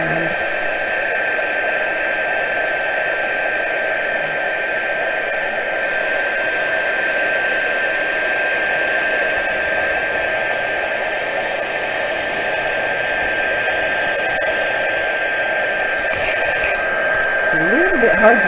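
A heat gun heat-sets embossing powder on a slimline card, a steady, close, loud fan-and-element whir like a hair dryer that runs without a break, with a faint voice speaking beneath it.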